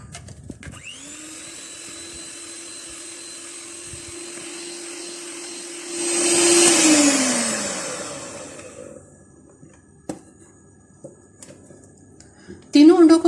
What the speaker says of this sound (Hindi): अब इसमें तीसरा अंडा डालेंगे और इसको मजीद बीट करेंगे